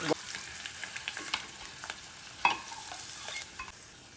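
Eggs frying in hot oil in a pan, a steady close sizzle with occasional scraping stirs and light clicks of a utensil, with no talk over it.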